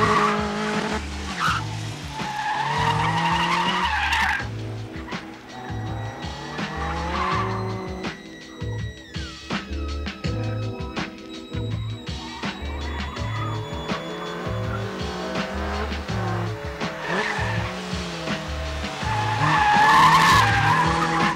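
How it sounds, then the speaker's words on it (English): A Caterham 7 sports car is driven hard around a race track, its engine rising and falling through gear changes as the tyres squeal and skid repeatedly through the corners, loud and close. "he's going to give me a little bit of a ride in a Caterham 7"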